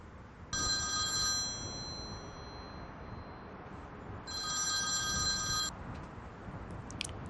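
A mobile phone rings with a bright, steady electronic ringtone in two long bursts, near and loud, with a brief pause between them and no talk over it.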